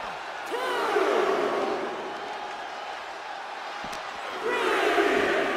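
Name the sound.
crowd cheering in WWE 2K25 video game arena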